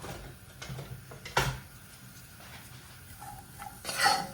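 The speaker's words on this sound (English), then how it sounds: "We'll give it a little stir." Onion stirred in oil in a pan for a Neapolitan tomato sauce, a few close clinks and scrapes of a spoon against the pan over a faint low sizzle.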